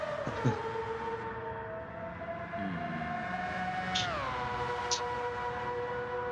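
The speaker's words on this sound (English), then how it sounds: "I know that engine sounds so awesome." A race car engine in Gran Turismo 7 holds a steady high-pitched whine at constant volume, with a sudden pitch rise partway through and faint tones underneath.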